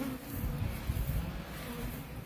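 Honey bees buzz close around someone's face, a dense, continuous, fairly faint hum with no voices.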